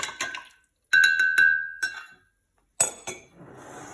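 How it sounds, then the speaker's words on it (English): A playdough mixture is stirred in a bowl, giving a few bright, ringing clinks in short bursts separated by quiet pauses, with one sharp knock near the end. "Shall I give it a mix and see what happens?"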